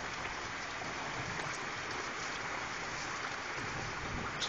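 Rainwater runs and splashes steadily during a thunderstorm with high winds at a pumpkin patch, a constant close broadband rush with no talking.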